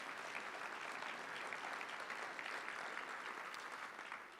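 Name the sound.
audience applause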